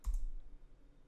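A couple of quick clicks from a computer keyboard's Enter key being pressed, close and fairly soft, followed by a low hum of quiet room noise.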